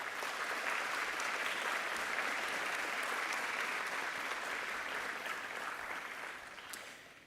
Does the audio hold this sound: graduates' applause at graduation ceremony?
yes